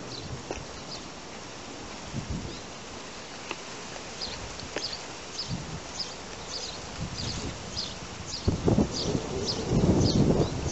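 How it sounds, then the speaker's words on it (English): Wind gusting outdoors in a valley, a steady rough buffeting that swells louder toward the end, with insect-like buzzing mixed in and no talking. "A little bit of wind."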